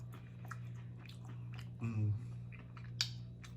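A short crunchy chewing burst on a Hot Cheeto chicken wing stands out near the middle, with quieter mouth noises and a faint background hum around it.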